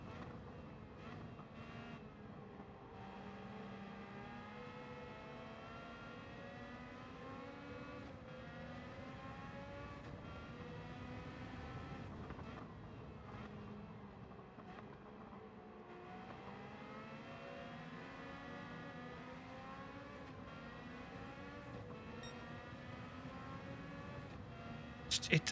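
A race car engine driven in Gran Turismo 7, a car with modern brake discs, drones steadily throughout, with the pitch rising and falling as the engine revs through gears and holds a continuous loud roar with no talking.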